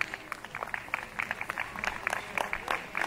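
Scattered clapping from an outdoor concert audience at an open-air museum in Podlaskie, applauding the Wrocław dance ensemble, steady and moderately loud for a few seconds with individual claps standing out.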